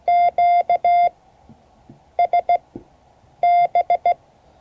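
Morse code tones sent in short bursts of dits and dahs, a steady beep pitch that drops out and returns in separate groups, imitating signal fading (QSB). The beeps are clear over a faint background, with no speech.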